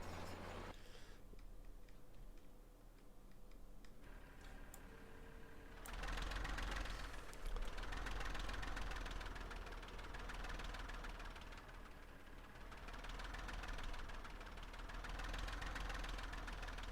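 A tractor engine idles in a farm simulator game, a steady, faint ticking mechanical chug that holds a constant rhythm, with a brief click and a slight rise in level partway through.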